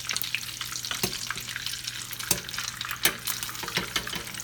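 A pan of egg foo young frying on the stove: a steady soft sizzle with a few sharp clicks and scrapes from a spatula as the patty is flipped, fairly quiet and without voices.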